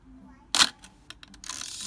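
A Nikkorex F film camera shutter fires at 1/60 second with a single sharp mechanical snap, followed by faint small clicks and handling noise, close and quiet.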